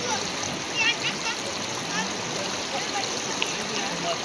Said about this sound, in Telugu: వాగులు వంకలు పొంగి పొర్లుతున్నాయి.